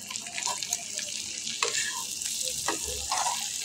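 Raw banana pieces dropped into a pan with turmeric and meat masala give off a soft sizzle with brief clatters of stirring. The sound is fairly quiet and close, and no talk is heard over it.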